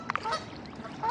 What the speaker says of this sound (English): Oh, check out these geese.